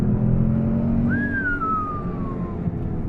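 A Peugeot 208 GT with a 1.2 PureTech 130 PS engine accelerates in traffic, a steady close engine drone heard from inside the cabin, its pitch rising as a gear pulls.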